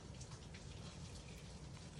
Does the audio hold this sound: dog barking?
no